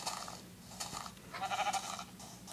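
A sheep in Minecraft Pocket Edition lets out a wavering bleat midway through, clear and close over faint game background noise, with no speech.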